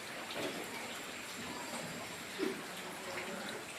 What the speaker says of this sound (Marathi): बाहेर पाऊस पडतोय मोठा.